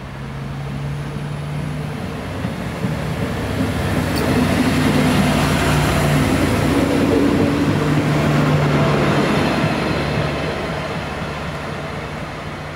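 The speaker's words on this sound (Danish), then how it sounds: "Her har vi Nordjysk Jernbanestog, Dision nummer 1." A Nordjyske Jernbaner train passes close by, its rumble and wheel noise swelling to a loud peak midway and then fading as it moves off, with no talk.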